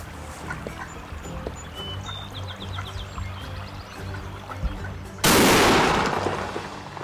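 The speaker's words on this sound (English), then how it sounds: "we shot this coyote this morning on this turkey hunt" A single loud gunshot fired at a coyote during a turkey hunt at a field edge, a sharp blast arriving after several seconds of quiet outdoor ambience and decaying over the following second.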